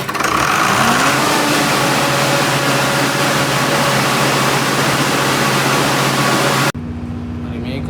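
A ship's emergency diesel generator runs with a loud, steady mechanical roar and hum that shifts as it picks up speed, then drops suddenly to a lower, quieter drone.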